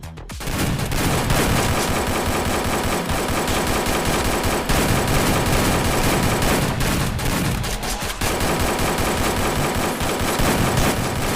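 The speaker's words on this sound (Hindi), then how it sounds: "चलो शुरू करो फायरिंग।" Gunfire at a firing training session, a dense and continuous barrage of rapid shots that stays loud and steady for over ten seconds, with only brief gaps between bursts.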